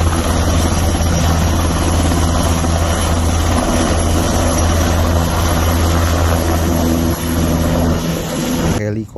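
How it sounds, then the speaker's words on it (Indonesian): A military TNI combat helicopter produces a loud, continuous close-range rotor and engine roar with steady low thudding throughout, and a voice can be heard talking over it. "Di sini ada helikopter TNI."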